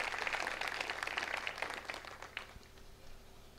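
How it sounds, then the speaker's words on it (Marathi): An audience at a public lecture on Ahilyabai Holkar claps loudly to congratulate the organising committee. The dense burst of applause tapers off after about two and a half seconds into quieter room noise. "आयोजन समितीचं तुम्ही सर्वांनी जोरात टाळ्या वाजवून अभिनंदन करा"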